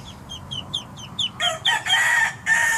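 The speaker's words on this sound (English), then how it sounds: "the hen's getting pretty mad" A hen clucks in a quick run of short calls that build into louder, drawn-out agitated squawks, close by.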